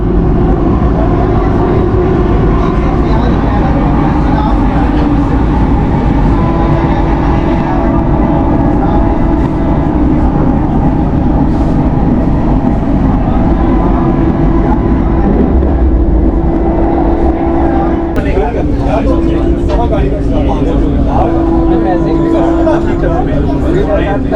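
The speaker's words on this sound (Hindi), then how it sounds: "फाइनली हमारी ट्रेन क्रॉस करती हुई वर्ल्ड के highest rail bridge Chenab rail bridge को 80 किलोमीटर पर आवर की स्पीड से" A Vande Bharat train crosses the Chenab rail bridge at about 80 km/h on the Katra–Srinagar line in Kashmir, making a loud, steady rumble and roar throughout, with sharper rattles and clanks near the end.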